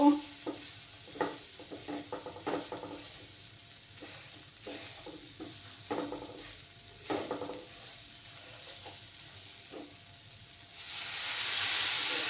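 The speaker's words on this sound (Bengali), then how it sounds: "কাশ্মীরি লঙ্কার গুঁড়ো 1 চামচ দিয়ে দিলাম। দিয়ে ভালো করে ফ্রাই করে নেব।" Kashmiri chili powder fries in a pan with soft sizzling and repeated stirring scrapes in an irregular rhythm, close and moderately quiet, before a louder steady hiss rises at the end.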